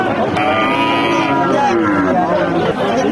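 A deshi-breed cow moos loudly and drawn out amid a busy cattle market, with crowd chatter and voices talking nearby.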